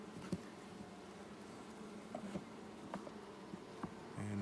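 Honeybees buzz softly at a backyard hive during a routine hive check, a faint steady drone with scattered light taps and knocks, then a short louder bump at the end.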